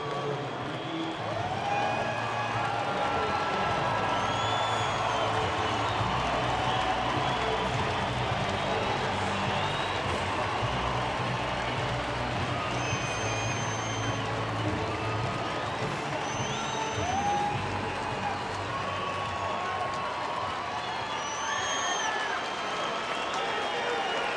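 A big Friday-night baseball crowd at Coors Field, Colorado, sustains a steady roar of cheering and applause with scattered whistles and shouts, distant and continuous throughout.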